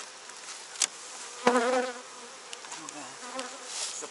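Honey bees buzz steadily around an opened hive near the end of the nectar flow. The hum is close and continuous, with a single short word spoken over it and a few clicks and knocks from handling the hive.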